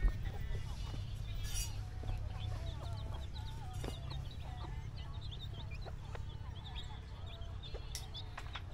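Chicken clucks and short calls scattered throughout over a steady low hum, at a house under construction, with occasional soft clicks and distant voices in the background.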